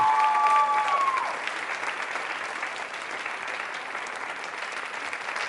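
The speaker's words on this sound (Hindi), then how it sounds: "तालियां बजाइए इनके लिए, आप इस नृत्य के लिए।" Audience clapping for a dance performance at a Holi quiz show at MJRP University, a sustained even round of applause from a crowd, a brief high whistle-like tone at the start, then steady clapping alone.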